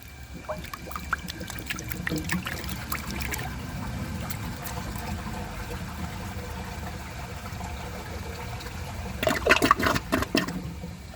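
A 1985 Kilgore Aladdin toilet flushes with a rushing swirl of water, settling into a steady trickle as the tank refills, with a brief louder gurgle near the end.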